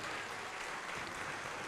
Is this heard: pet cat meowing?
no